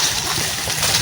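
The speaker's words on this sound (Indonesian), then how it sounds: "Harus nyebrang sungai lagi nih." Water splashes and sloshes steadily while people wade across a river on foot through a forest trek, a continuous broadband wash with no distinct voices.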